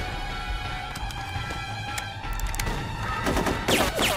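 Gunfire in the 2004 video game Full Spectrum Warrior, rapid overlapping shots over a dense game soundscape, with a louder burst of firing near the end.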